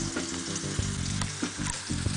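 Zucchini and onion frying in olive oil crackle and sizzle steadily in a pan, with a few sharp pops and spits from the hot oil over a constant close hiss.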